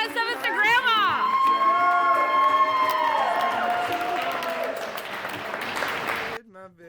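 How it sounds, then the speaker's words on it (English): A comedy-club crowd keeps up clapping and cheering for a comedian while she talks over it, the noise holding steady before cutting off near the end. "Clap better than that"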